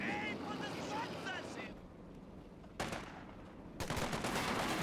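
Fairly faint machine-gun bursts from a .50 cal in Company of Heroes 2 break out twice near the end, after a stretch of a voice over battle noise.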